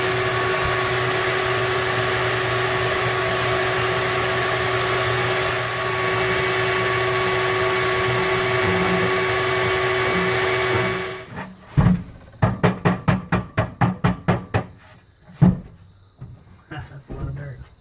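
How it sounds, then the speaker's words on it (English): A steady vacuum cleaner drone runs for several seconds, then cuts off and is followed by a string of sharp knocks and bangs. "I'll go get my vacuum in a second."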